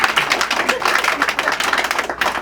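Audience clapping fills the room at an inauguration event for a Quebec City media outlet, a steady dense patter of many hands held at an even level throughout.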